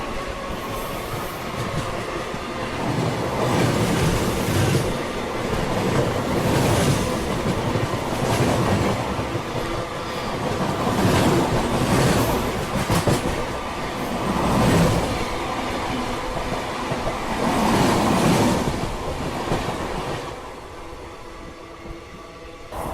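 The Seemanchal Express thunders past on a busy rail section near Kanpur, heard from aboard a passing train: loud, sustained rumble with repeated clickety-clack wheel beats and surging whooshes, fading off at the end.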